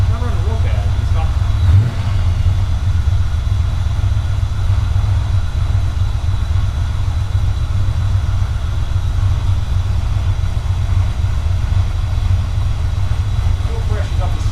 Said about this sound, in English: So with like one quick crank, one quick turn again, startup, fired right up, it ran.